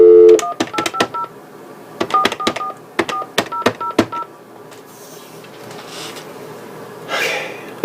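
Telephone keypad tones dialing a number, three quick groups of sharp beeps in a steady rhythm, loud and close, followed by faint line noise.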